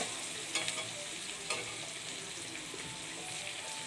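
Onion and garlic fry in oil in a kadai, a soft continuous sizzle with a few brief stirring scrapes against the pan.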